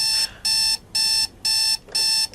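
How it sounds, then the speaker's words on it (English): An alarm clock rings in loud, close bursts of bright electronic beeping, five regular pulses separated by short silences. "If you wave your hand in front of it, the alarm will stop ringing."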